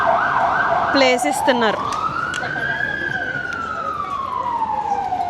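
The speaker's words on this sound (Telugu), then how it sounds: "ఇక్కడ అంబులెన్స్." Ambulance siren on a Lisbon street, a loud wailing tone that sweeps up and holds steady over traffic noise, with a brief burst of yelping in between and a person speaking over it.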